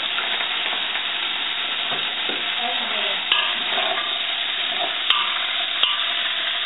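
Stew ingredients are stirred in hot oil over high heat, giving a continuous loud sizzle. Scraping and occasional clicks from the utensil against the pan break through, with no talking.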